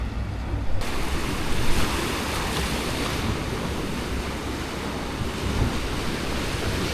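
Ocean waves wash onto the shore at Kona, Hawaii, a steady, loud roar of surf with wind buffeting the microphone and no clear breaks, continuing throughout.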